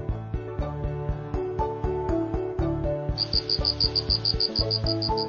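Crickets chirp in a fast, even pulse of repeated high trills over a bed of cheerful children's music, the chirping entering partway through and continuing steadily to the end.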